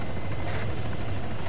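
A helicopter flies at maximum altitude on a night mission in Arma 3, with a loud, steady rotor drone and engine rumble that fills the whole stretch without a break.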